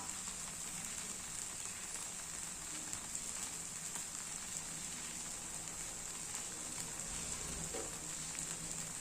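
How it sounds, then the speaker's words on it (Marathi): A dosa sizzles steadily on a hot pan over medium-high gas, a faint continuous frying hiss with no talk. "आता मी मीडियम ते हाय गॅस ठेवत आहे आणि छान असा आपण डोसा शिजवून घेऊया."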